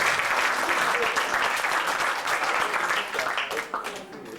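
Steady applause from a large audience at a sales and recruiting seminar, dense clapping throughout that thins slightly near the end.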